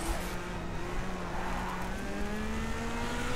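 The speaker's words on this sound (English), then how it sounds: "I don't think the engine noise was the top priority for Codemasters for this game." Race car engine in Race Driver: GRID, a steady loud droning whine that climbs slowly in pitch as the car accelerates, with no speech over it.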